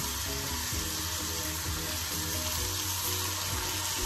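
Spaghetti pie pasta sizzles steadily in a hot pan, a constant close frying hiss with faint crackles and no pause over the whole stretch.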